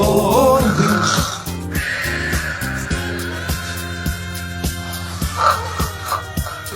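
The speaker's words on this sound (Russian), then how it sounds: "Господи, да кто же так храпит-то?" A sleeper snores among soldiers in a barracks setting, a series of deep, rattling, rhythmic snores repeating roughly every half second after a brief burst of louder noise at the start.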